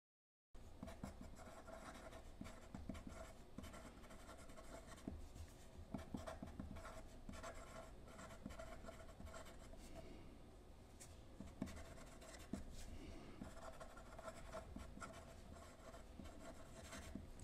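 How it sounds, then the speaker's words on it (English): Broad-nib Sailor 1911 Realo fountain pen writing large and loose on paper, a steady soft scratchy rubbing that runs continuously with small strokes and lifts, close and fairly quiet. "Let me just write big and free with this one for a moment"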